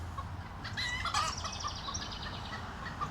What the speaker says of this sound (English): Oh, now we have a chicken shenanigans.